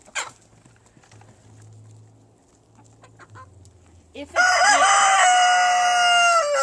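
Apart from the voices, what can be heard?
chickens clucking and rooster crowing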